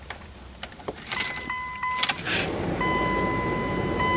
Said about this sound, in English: Then we turn the key on.